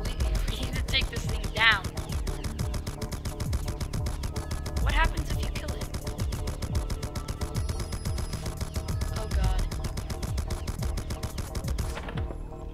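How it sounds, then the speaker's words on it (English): Rapid automatic gunfire aimed at an alien UFO in a Roblox SCP game, sustained bursts running throughout under an energetic game soundtrack, with players talking over the shooting. "Do I just have to keep shooting this?"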